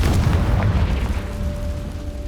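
The Confringo fire spell in Hogwarts Legacy goes off as a loud, deep boom that rolls and fades over about two seconds.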